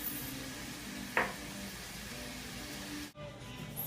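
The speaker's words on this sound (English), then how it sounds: "I'm using the bacon grease, or the bacon fat, whatever you want to call it, to fry the little baby scallops" Baby scallops fry in rendered bacon fat, giving a steady, close hiss of sizzling with one brief sharp clink partway through and a short dip near the end.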